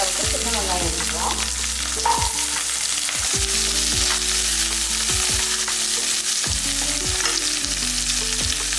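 Small onions (shallots), two handfuls, sauté in hot oil for a cowpea curry, giving a steady loud sizzle with repeated scraping stirs of the pan throughout.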